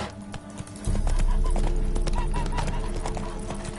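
Horse hooves clip-clop steadily in The Witcher 3 video game, with a brief whinny, loud and close over a continuous low background rumble.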